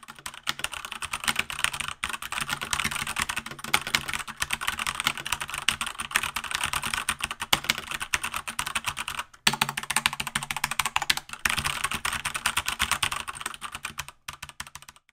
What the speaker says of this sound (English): here's a quick typing demo.